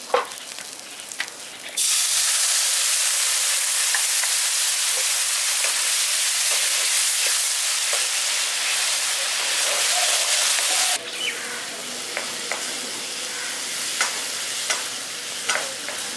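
Chicken and vegetables with semolina cook in a pan. Quiet stirring at first, then a sudden loud rushing sizzle and hiss as a cup of water goes in, dying back to softer bubbling and stirring near the end.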